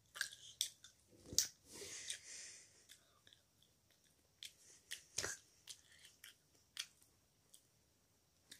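Someone bites and chews a soft, very juicy apple that was frozen for 24 hours and thawed, giving close, wet, squishy crunches in uneven bursts with quiet pauses between.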